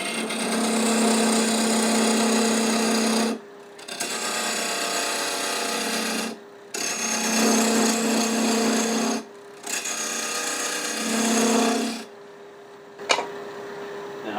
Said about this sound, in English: I'll use a skew to take a planing cut for that.